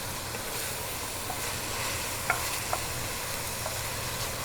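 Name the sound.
tomato paste cooking with onions, garlic and oregano in pan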